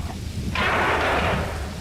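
A sudden wash of hissing rain in Max Payne 2 swells in, loud and close, then holds steady before easing slightly.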